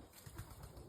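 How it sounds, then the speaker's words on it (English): A big pigeon coos softly in a low, faint murmur amid quiet outdoor background noise, with no talk. "Ooh, big pigeon."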